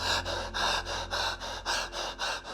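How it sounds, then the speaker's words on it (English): Rapid panicked breathing, a rhythmic series of about eight sharp gasping inhales and exhales, close and breathy, heard alone over a low background hum. "panic breathing"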